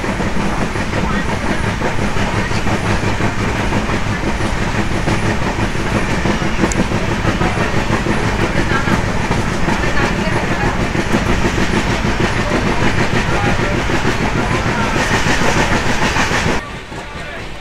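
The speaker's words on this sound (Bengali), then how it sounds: "এই মুহূর্তে আমাদের কান্ডারি এক্সপ্রেস থ্রু পাস করে বেরিয়ে যাচ্ছে নন্দকুমার স্টেশন" The Kandari Express runs through Nandakumar station with a loud, steady rolling roar and rhythmic clatter of wheels on track, heard from on board, fading abruptly near the end.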